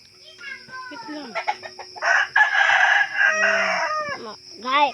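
A rooster crows loudly and close up, with a long cock-a-doodle-doo in the middle and further crowing and clucking from chickens around it on a farm.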